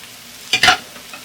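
Okra with tomato, ginger and green chili stirred in a hot pan, giving a brief scraping stir with a short sizzle burst in the middle, close and fairly quiet against a low background.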